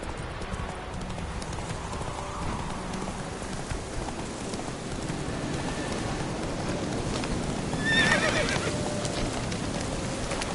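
The horse Roach in The Witcher 3: Wild Hunt, hooves clip-clopping in a steady trotting rhythm with a whinny rising near the end, over a soft outdoor ambience.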